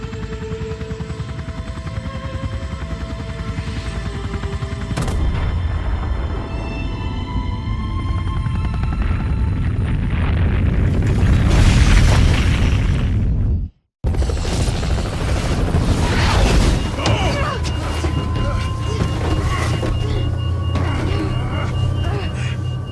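An explosion scene from a Resident Evil 2/3 remake builds into a swelling roar of rumbling blasts and debris, cuts to a brief silence, then resumes with lingering crackling and mechanical noise.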